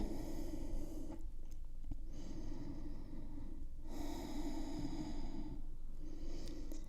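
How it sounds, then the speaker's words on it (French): Slow, deep breaths during a vinyasa yoga practice, long airy inhales and exhales in a steady rhythm, soft and close with a constant background hiss. "On va venir prendre des respirations profondes."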